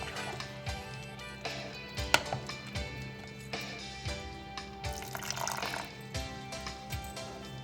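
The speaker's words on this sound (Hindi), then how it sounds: "अब इसमें मैं ऐड कर दूँगी पानी" Water is poured into paratha dough and worked in by hand in a kitchen, giving soft wet squelches, splashes and clicks at an irregular pace, close and fairly quiet, with no talking.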